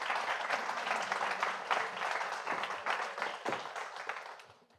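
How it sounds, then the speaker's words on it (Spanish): An audience at a public-speaking talk breaks into applause: a thick, continuous patter of many hands clapping at moderate distance, fading out near the end. "Muy bien, aplausos para ellas"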